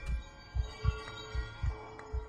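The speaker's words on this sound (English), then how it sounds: "Maybe it's the sound of the heartbeat in my ears?" Heartbeat sound from the horror video game Among the Sleep: a steady series of soft, low thuds, about six in two seconds, over a faint sustained hum.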